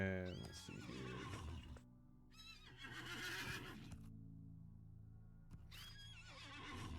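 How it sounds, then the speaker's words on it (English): Horses in the online game LOTRO neigh and whinny repeatedly at close range, with clip-clop hoof sounds and background game noise, loud and busy throughout. "Get away from these horses because they're making a ton of noise."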